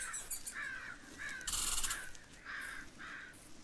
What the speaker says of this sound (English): They're all chirping.